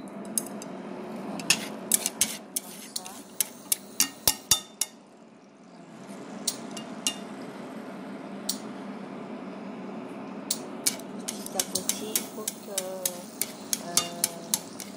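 Shallots cooking gently in oil in a pan over low heat for a shallot confit, a soft, quiet sizzle beneath frequent sharp clicks and scrapes of a utensil stirring, with a calmer stretch midway before the stirring resumes.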